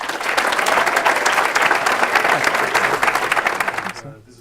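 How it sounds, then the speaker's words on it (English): A crowd at a Copenhagen Startup Weekend pitch event gives a loud, dense round of applause that holds steady for about four seconds, then stops abruptly. "One last round of applause for Epicentris!"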